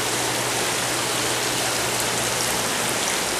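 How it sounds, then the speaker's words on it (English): Water running steadily in a ceramic bird bath fountain in a showroom, a dense, even splashing trickle heard close and unbroken, with no voices. "we're working on some new bird bath beautiful ceramic fountains"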